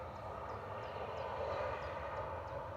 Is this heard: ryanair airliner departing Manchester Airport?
yes